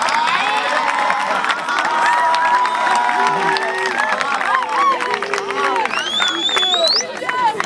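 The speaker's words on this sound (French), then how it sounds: "Le manager Kevin Issa, que je vous demande d'applaudir très très fort." Loud crowd applause and cheering, with whoops and shouted voices rising over sustained clapping throughout.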